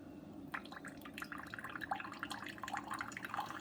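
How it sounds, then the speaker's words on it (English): Brewed coffee drips and trickles from a Keurig machine through a reusable refillable K-Cup filter, a quiet, continuous splashing stream with scattered droplet patters close by. "we've got our coffee coming right out of where the coffee comes out."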